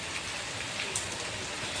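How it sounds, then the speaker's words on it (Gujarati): Heavy rain pours down during a storm, a steady, dense hiss of drops drumming on surfaces that holds evenly throughout with no voices. "વરસાદ આવી ગયો છે"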